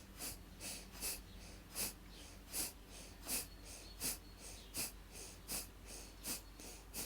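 Rhythmic yoga breathing during a hip-loosening session, about a dozen evenly spaced breathy exhalations in a steady pulse, close and soft, with no talking.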